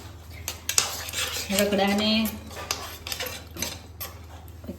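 A metal spoon stirs thick ragda (a potato and pea curry) in a pot, clinking and scraping in a steady rhythm. A voice speaks briefly over the stirring.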